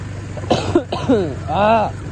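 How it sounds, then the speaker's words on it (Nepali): A couple of short, light coughs come close together, followed by throaty vocal sounds, over a low engine hum. "खोकी लागेको छ हल्का"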